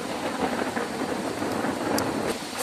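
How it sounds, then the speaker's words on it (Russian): Summer rain falls steadily on surfaces outdoors while thunder rumbles beneath it, a dense continuous patter with a low roll throughout and no speech. "Слышите гром?"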